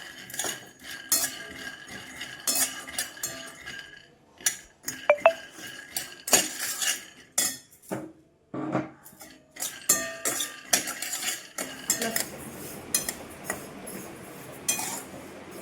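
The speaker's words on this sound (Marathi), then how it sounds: "पहिले आपण शेंगदाणे भाजून घेऊया" Peanuts dry roasted in a pan for Makar Sankranti tilgul, stirred with intermittent clinks, scrapes and rattles of a utensil against the pan, moderately close with no talking.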